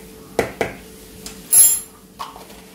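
Spoon clinks against a metal vessel while a little Boost powder is added to spiced tea with ginger: a few separate taps and one brief louder scrape, close and clear, with no talking.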